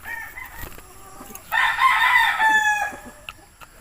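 A fighting rooster (gamecock) crows once loudly and clearly, a sustained harmonic call rising and holding for about two seconds, preceded and followed by faint background clucks and farmyard noise.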